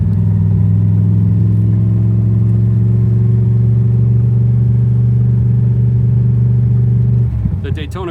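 A Shelby Daytona Coupe, a race car built on the Cobra platform, drones steadily from the driver's seat, a loud, close, even engine rumble that cuts off abruptly near the end, followed by faint clatter.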